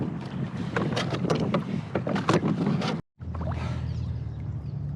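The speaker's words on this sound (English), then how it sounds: "After paddling into the current and the wind" A boat paddled against current and wind at sea, with rhythmic splashing strokes and steady wind buffeting the microphone, a brief cut of silence near the end before the wind and water noise resume.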